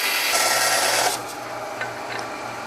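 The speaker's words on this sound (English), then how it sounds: "we'll go over to the bandsaw to cut that hook loose from the rest of that bone" A bandsaw cuts straight across a fish bone to free a carved hook, giving a steady, close rasping whine for about a second before the blade eases into a quieter, lower hum with a few light scrapes.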